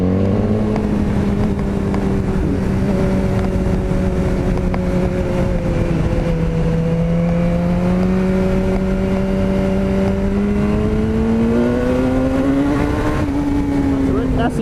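A BMW S1000R motorcycle engine drones loudly and continuously while being ridden, its pitch dipping and then climbing steadily under heavy wind rush.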